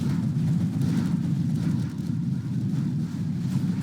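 A combat Chinook in Command and Conquer gives off a dense, low rumble that holds steady and heavy the whole time, like a close aircraft engine, and nothing else stands out.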